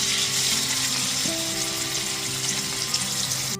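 Salt- and turmeric-coated prawns dropped into well-heated oil sizzle and fry loudly and steadily throughout, a dense crackling hiss with faint kitchen hum beneath and no talking.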